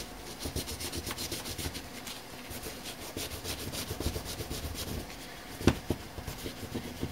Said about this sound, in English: So now, I'm going to start wiping in.